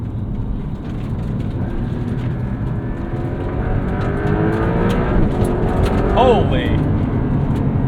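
A 2025 Porsche 992.2 Carrera 4 GTS accelerates hard in sport mode on a damp, gravelly road, its engine droning and rising through quick shifts while someone talks excitedly inside the cabin.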